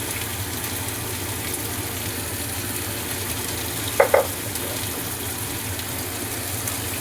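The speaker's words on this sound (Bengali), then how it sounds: "আমি এটাকে লাল লাল করে ভাজবো, ভেজে তারপর আপনাদের দেখাবো।" Broken wheat (dalia) dry-frying in a pan for khichuri, with turmeric and salt mixed in, gives a steady, close sizzle and hiss throughout, with a couple of quick scraping stirs near the middle and no talking.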